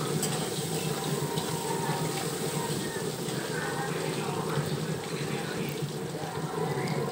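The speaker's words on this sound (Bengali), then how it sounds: "দিয়ে আমি কিছু সময় লাল করে ভেজে নেব।" Prawns coated in spice paste fry in a wok-style pan, giving a steady, dense sizzle that runs unbroken throughout at close range with no speech over it.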